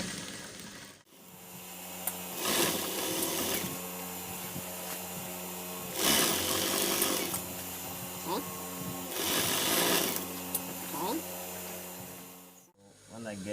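A sewing machine stitches a waistcoat seam in bursts of steady whirring, pausing between runs, with a voice talking quietly beneath.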